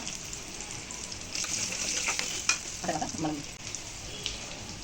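Cashews sizzling in hot oil for a tempering in homemade tamarind pulihora, a steady close frying hiss with brief bursts of stirring.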